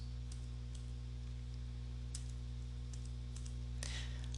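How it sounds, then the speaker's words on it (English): Decimal numbers are typed on a computer keyboard in Word 2013: sparse, faint key clicks spread unevenly over a steady electrical hum, with a slightly louder cluster of taps near the end. "Now look what happens when I start typing decimal point numbers."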